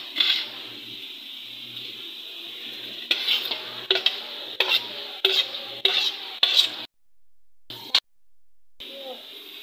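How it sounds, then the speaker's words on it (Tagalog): Onions tipped into a hot pan and stirred, giving a sizzle under a series of rhythmic scraping and clinking utensil strokes against the pan, then a break into near silence. "Lalagyan na po natin yung sibuyas."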